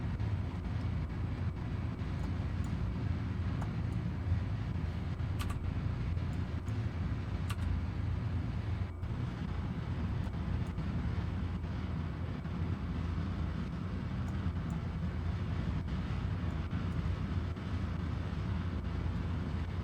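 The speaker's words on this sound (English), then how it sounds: "We've gone into main engine deep throttle." Steady low rumble of a rocket's main engines held at deep throttle in Kerbal Space Program 1.12.2, a continuous dense roar with faint clicks on top, unbroken for the whole stretch and with no voices.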